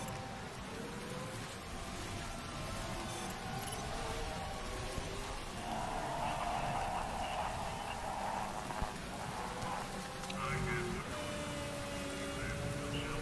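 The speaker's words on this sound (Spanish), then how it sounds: "Está lloviendo ahora." Rain falls during a race in the motorsport management game Motorsport Manager, a faint, steady hiss of drops that continues throughout, with quiet tonal game sounds drifting underneath.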